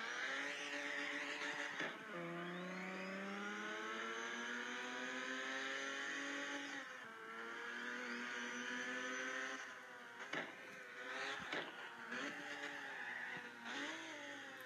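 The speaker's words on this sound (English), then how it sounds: "Oh boy, that was a lot of revs." A car engine revs hard, pitch climbing and falling through repeated accelerations with tire squeal, loud and sustained.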